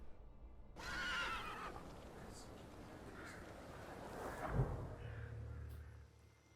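A horse whinnies in a long, wavering neigh that rises and fades, heard faintly over a steady hiss of background noise, in the video game The Thaumaturge.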